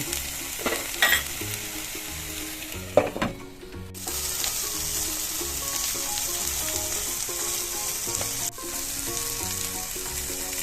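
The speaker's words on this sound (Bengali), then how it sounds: "মশলাটা ভালো করে সব একসঙ্গে কষে নিচ্ছি।" Spices, tomato and mixed winter vegetables are stir-fried together for a Bengali moong dal, producing a loud, continuous close sizzle with clattering stirs early and a brief pause midway.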